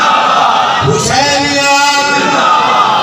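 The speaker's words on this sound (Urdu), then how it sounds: "بلند آواز سے اس نعرے کا ہمیں جواب دیا جائے گا" Large outdoor procession crowd at an Ashura Muharram jaloos in Gujrat answers a leader's call, voices swelling together into a loud sustained slogan shout over a second or two.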